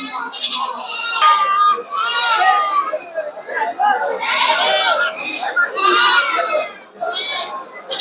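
Goats bleat repeatedly amid a busy crowd at the Sarkar Bazar livestock market before Eid, with lots of overlapping chatter and calls filling the space throughout.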